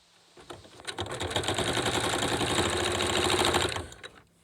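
A sewing machine stitches a fabric face mask strap, its rapid rhythmic whirring and clacking rising quickly, holding steady for about three seconds, then stopping abruptly.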